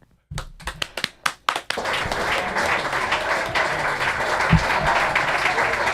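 A few sharp, close hand claps break out, then swell into sustained audience applause after a rap performance, dense and steady with some cheering mixed in for several seconds.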